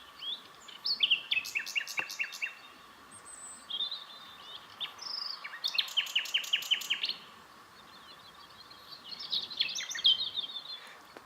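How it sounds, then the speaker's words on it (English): A nightingale sings in spring at the RSPB Minsmere nature reserve, phrases of rich whistles, rapid trills and repeated chirps coming in bursts separated by short pauses, fairly close and clear over a quiet background. "there's a beautiful nightingale singing its heart out"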